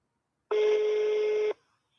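A single steady electronic telephone busy tone sounds for about one second, clean and close, then stops, leaving silence.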